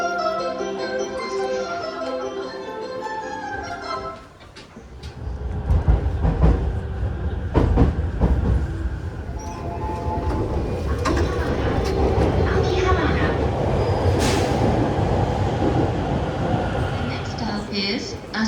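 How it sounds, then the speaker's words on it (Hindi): A train passes through a station in Japan, starting with a rumbling, rattling approach that swells into a sustained loud roar of wheels and carriages. A tonal chime or announcement is heard early, with some background noise. "आंखों के आगे से निकल गई ट्रेन, ये तो हमारी अगली का इंतज़ार करते हैं।"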